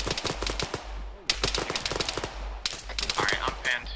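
Gunfire in the Arma 3 video game, with rapid automatic bursts and scattered single shots crackling in several clusters, loud and sharp.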